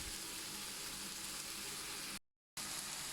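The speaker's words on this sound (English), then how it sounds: "Got the mince here, it's going to cut that all up, of course, and wait for that to brown over." Minced meat browning in a pan for a cottage pie gives a quiet, steady sizzle that runs on without a break and cuts out briefly near the end.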